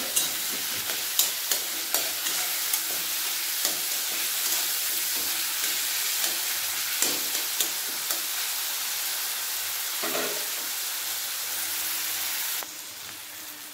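Tomato cooks with turmeric powder in a pan, giving a steady close sizzle and hiss with scattered sharp crackles and occasional stirring scrapes, then a sudden drop to a quieter fry near the end.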